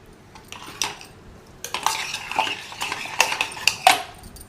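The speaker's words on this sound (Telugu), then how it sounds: "దీన్ని ఇప్పుడు కొంచెం ఉప్పు వేసి ఇంకా కొంచెం కలిపేసుకుందాం." A spoon stirs soft-cooked moringa leaf dal with tamarind and salt in a metal pot, producing repeated scraping clinks and wet stirring sounds that grow louder and busier after a quieter start.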